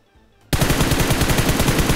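Rapid video-game gunfire bursts out after half a second of near silence, a loud, dense automatic stream of shots fired at an enemy, continuing steadily to the end.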